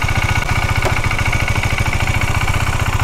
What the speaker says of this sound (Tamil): இப்போ கொஞ்சம் நேரம் வண்டி வந்து ஐட்லிங்லேயே இருக்கட்டும்.